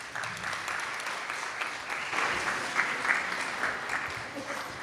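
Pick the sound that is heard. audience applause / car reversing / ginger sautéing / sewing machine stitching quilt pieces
audience applause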